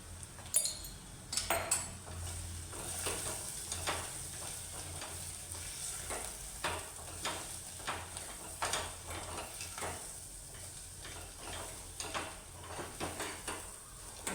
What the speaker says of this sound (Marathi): आधी छान सगळे मसाले त्याला टाकून परतून घेतले